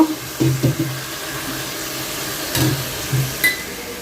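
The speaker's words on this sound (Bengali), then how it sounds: "এখন টুকটাক যা আছে আধোয়া এগুলো একটু ধুয়ে নেব" Running tap water splashes over unwashed kitchen items being rinsed in a sink, a steady wash of water with a few louder clanks and splashes as pieces are handled near the mic.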